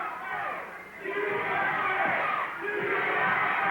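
Wrestling arena crowd shouting and jeering at the Sheik during a match, a dense roar of many voices that swells and dips throughout.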